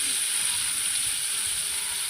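Potatoes fry gently in oil over a low flame, making a continuous, even sizzle with a soft bubbling texture and no voices.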